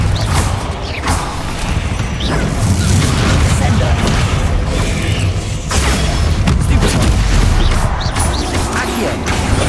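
During Hogwarts Legacy combat, Bombarda blasting spells explode amid a dense clatter of crashes, thuds and creaking debris, with repeated booms over a loud, continuous battle bed and occasional voice.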